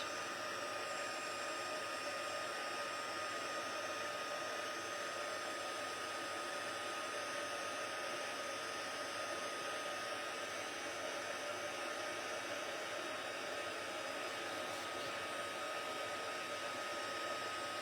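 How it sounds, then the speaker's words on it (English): A heat embossing tool blows hot air over a card sentiment, giving a faint, steady whirring hum that holds unchanged throughout with no talking. "I'm just going to heat emboss the sentiment."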